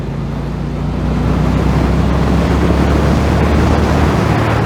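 A Brixton Cromwell 1200 motorcycle weaves through city traffic in Pau with a deep, loud engine rumble buried in heavy, blustery wind noise that swells slightly after the first second.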